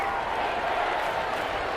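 A stadium crowd in the football game Madden 21, Minnesota Vikings at Houston Texans, a dense, loud, continuous roar of cheering and noise with no break.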